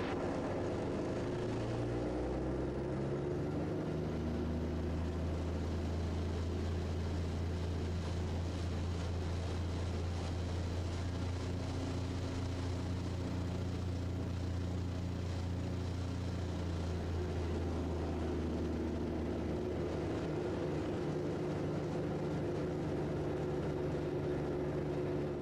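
A Raptor prototype aircraft taxis on the ground, its engine holding a steady, close drone with a few shifting tonal layers that run for the whole stretch without any talk.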